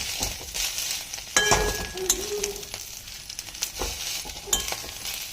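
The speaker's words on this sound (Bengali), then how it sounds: "এবার আমি মাছের ডিমটা এর মধ্যে দিয়ে দেবো।" Fish roe drops into hot oil with browned chopped garlic, sparking a crackling sizzle alongside clinks and scrapes of a utensil against the pan, sounding close and moderately loud with sharp bursts of spatter.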